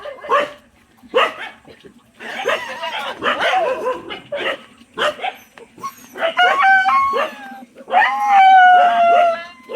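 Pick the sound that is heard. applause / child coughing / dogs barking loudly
dogs barking loudly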